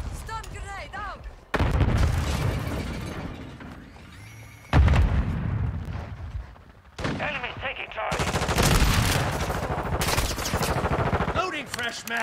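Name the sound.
stun grenade and gunfire in Modern Warfare 2 video game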